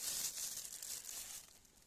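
A plastic bag holding freshly picked honey mushrooms in a forest is handled, giving a soft, faint crinkling and rustling that fades over about two seconds.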